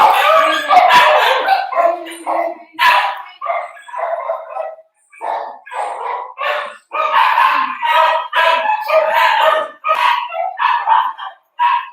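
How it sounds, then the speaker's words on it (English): Several dogs bark in quick repeated bursts, loud and close, with some howling yips mixed in, the barking continuing almost without pause. "every time it walks, it barks, and it gets my dogs to bark"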